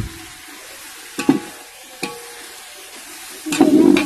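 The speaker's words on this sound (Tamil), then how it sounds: "இந்த எண்ணெயிலேயே நல்லா வந்து வதங்கட்டும்." Chicken sautéing and being stirred in oil in a pot for a large batch of biryani, with short spoon scrapes and a louder burst of sizzling and stirring near the end, nearby with no talk.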